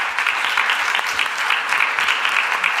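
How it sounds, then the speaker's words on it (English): Sustained audience applause for a conference panel, dense and even clapping from a sizeable crowd that holds steady for the whole stretch. "Maybe we should already give them a round of applause"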